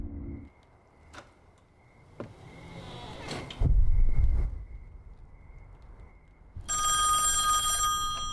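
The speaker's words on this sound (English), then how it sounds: "The phone. Should I answer?" A telephone rings inside a big house in the horror game Song of Horror: a faint, steady tone persists while a door and objects clatter and a low rumble swells, then a loud, bright ring cuts in at the end.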